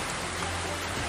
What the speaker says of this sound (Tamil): கனமழை என்பது பெய்து வருகிறது